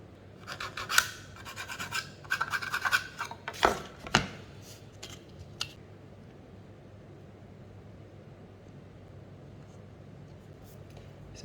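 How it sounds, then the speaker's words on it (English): Hand sanding of a wooden photo frame piece makes several rough, scratchy strokes in the first half, then fades to quiet room tone. "So I'm just going to give that a sand."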